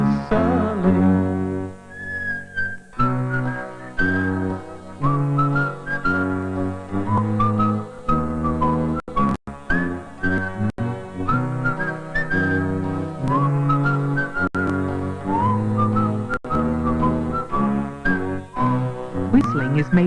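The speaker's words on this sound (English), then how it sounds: "You make another noise called whistling." Melodic human whistling, made with pursed lips and breath rather than the voice, carries a continuous tune for about twenty seconds at steady loudness with no talking.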